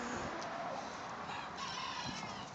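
Free-ranging bantam chickens and a rooster in a farmyard, with a rooster crowing and a few clucks over a steady outdoor background hiss, moderately close.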